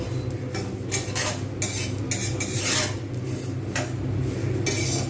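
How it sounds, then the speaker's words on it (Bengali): Puffed rice dry-frying in a pan over full heat while being stirred continuously, giving a steady dry rattling scrape of grains and utensil against metal, with brighter bursts of clatter as it is tossed, close and fairly loud, no voices. "এভাবে কন্টিনিউ নাড়তে হবে তলায় বসে গেলে চলবে না তারা কিন্তু পুড়ে যাবে এরকম করে করে ভাজতে হবে"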